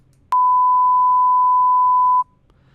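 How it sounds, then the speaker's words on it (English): A single steady censor bleep, a pure mid-pitched tone held for about two seconds against near silence. "here is our censor beep"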